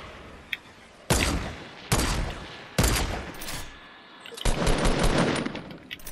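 Gunfire from the Fortnite video game plays as loud bursts of automatic shooting separated by short pauses, then a longer sustained volley at the end.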